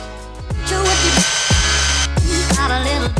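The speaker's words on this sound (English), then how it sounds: "now I just need to drill and tap this so I can bolt that through there with a washer" A power drill bores into a Porsche 944 part, revving up and down in several short whining bursts with pitch dropping as it bites and stalls, close and loud, with no talking.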